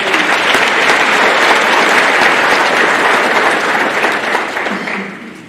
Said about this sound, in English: give them a hearty round of applause for supporting you